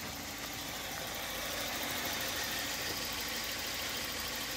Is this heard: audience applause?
no